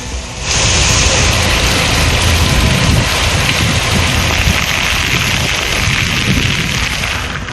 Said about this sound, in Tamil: தூத்துக்குடி மாவட்டம் எட்டயபுரம் சுற்றுவட்டார பகுதிகளில் மிதமான மழை.